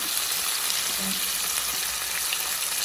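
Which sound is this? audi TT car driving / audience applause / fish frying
fish frying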